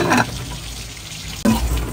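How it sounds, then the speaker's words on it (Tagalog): Salmon sinigang soup with kangkong bubbling and sizzling in a pot on the stove, with a couple of louder clatters, like a lid being handled, at the start and near the middle. "kumukulo na"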